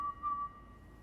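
A character in The Witcher 3 video game whistles a single clear, thin tone that wavers briefly and then fades, quiet against a soft background.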